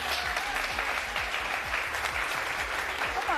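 A television show audience claps continuously and evenly, a dense, steady wash of applause heard alone at moderate volume.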